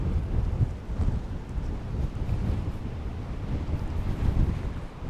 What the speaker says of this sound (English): I've got the wind behind us